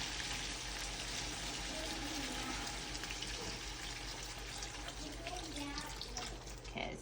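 Beef broth being poured into a pot while making green chili, a steady soft liquid pour with a faint splashing wash running continuously at low level.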